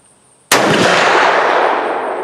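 A single loud rifle shot from a Marlin 336 lever-action fired standing, a sudden sharp blast with a long rolling decay that fills the rest of the moment, close and alone without speech.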